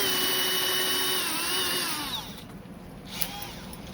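A power drill fitted with a Spectral step drill bit bores quickly into wood, its whining motor pitch sliding downward as the cut finishes within about two seconds, then fading to quieter handling noise.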